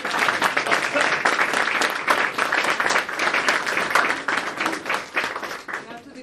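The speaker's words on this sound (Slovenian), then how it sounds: "Aplavz za nas." Audience applause at an evening event in an old house gallery, a steady crowd of hands clapping continuously at moderate loudness, dense and even throughout without pauses.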